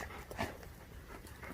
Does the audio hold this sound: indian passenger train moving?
no